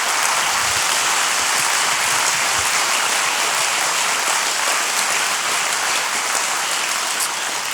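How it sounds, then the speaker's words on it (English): A church audience claps in a big round of applause of thanks, loud, dense and sustained at an even level throughout, with no talking over it. "Could we just give a big round of applause and just as a gratitude and thank you?"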